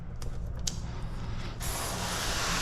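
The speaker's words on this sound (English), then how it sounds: "we're just going to go ahead and mist that down with the soap solution or slip solution" A spray bottle mists soap slip solution onto a Subaru Forester headlight for paint protection film, starting as a few short close hisses and then a steady, continuous spray that runs to the end.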